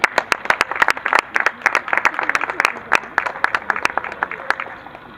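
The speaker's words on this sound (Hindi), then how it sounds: "जोरदार तालियों के साथ।" An audience at a Holi gathering claps in a lively burst, many distinct sharp hand claps close together with an uneven rhythm across a few seconds, with voices faintly under it.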